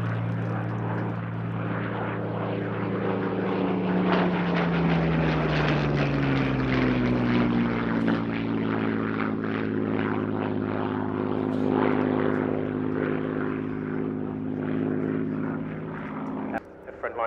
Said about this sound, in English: he'll roll right and then pull left, bringing the aircraft back